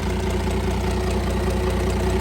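A Cummins diesel engine in a burnout truck idles loudly and steadily up close, its low rumble carrying a regular knocking pulse throughout, with no talk over it.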